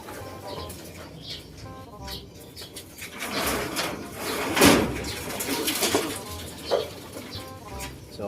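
Racing pigeons returning to the loft after a hard race in Tagudin, Ilocos Sur: cooing and flapping wings mixed with a busy rustle, moderately close, with occasional voices in the background.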